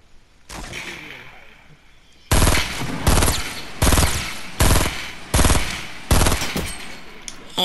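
Rapid gunfire from the video game Fortnite, loud close bursts of automatic shots in a rhythmic series after a quieter start, with a voice talking in the background.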